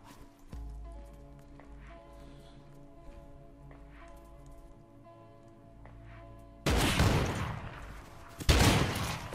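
Gunfire in the video game Rust: two loud bursts of shots near the end, after a quieter stretch of game ambience with low rumbling.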